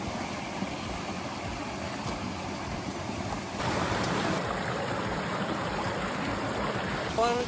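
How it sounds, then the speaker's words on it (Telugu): A small hidden waterfall near a village in Polavaram pours in a constant broadband rush, steady and enveloping, growing slightly louder partway through, with light wind buffeting. "ఇవాళ అయితే నేను మా ఊర్లో ఉన్న ఒక హిడెన్ వాటర్ ఫాల్స్కి అయితే వచ్చాను"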